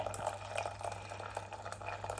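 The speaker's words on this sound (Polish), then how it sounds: "i żeby też nie przyginać dolejemy 100 ml wody" Water trickles and splashes as 100 ml is poured into a cooking mixture in a pot, a steady close liquid pouring sound with small drips and a low background hum.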